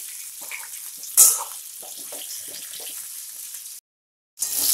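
Pieces of parwal (pointed gourd) fry in a pan with a light sizzle while a spoon stirs them, scraping in short bursts, close up, with a brief silent gap before the frying resumes.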